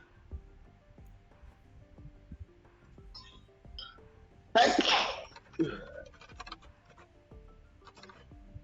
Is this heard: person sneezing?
yes